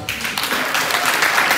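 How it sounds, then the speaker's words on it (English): A gathered crowd at a funeral reception gives a round of applause, a dense, steady wash of many hands clapping close by that rises quickly and keeps going with no voices over it. "So I think he deserves a round of applause."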